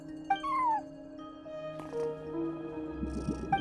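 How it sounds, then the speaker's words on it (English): A cat at a front desk in the video game Genshin Impact gives one short rising-falling meow, then further quieter cat sounds over a soft steady game music background. "No one except for a cat watching over the front desk."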